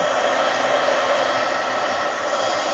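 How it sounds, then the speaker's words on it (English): A heat gun blows to dry paint on a stencil, a steady, loud, close whooshing hiss of airflow that holds constant with no pauses or voices. "now I'm going to use my heat gun because I need to dry this up"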